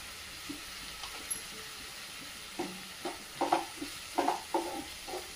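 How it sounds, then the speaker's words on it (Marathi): Toor and masoor dal frying in oil in a pan at home, a quiet low sizzle broken by a series of soft spoon scrapes and stirring clinks, sparse at first and then more frequent. "ती आता आपण प्रथम फ्राय करून घेऊया। तेलात परतते तोपर्यंत आपण चवीनुसार मीठ टाकून घेत आहोत।"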